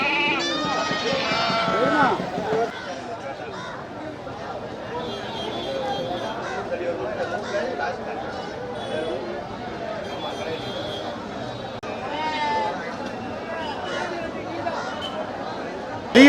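Goats bleat at a busy goat market in Melapalayam, loud calls at the start and near the end, under steady crowd chatter and nearby talking.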